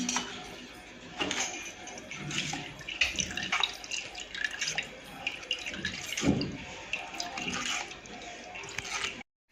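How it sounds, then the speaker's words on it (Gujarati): Boiled tamarind and chilli chutney for pani puri water being poured through a strainer, giving a steady close trickle and drip of liquid with soft utensil movements, no talking. "આંબલી અને મરચાંની ચટણી એને પણ આપણે આ રીતે ગાળી અને લઈ લઈશું।"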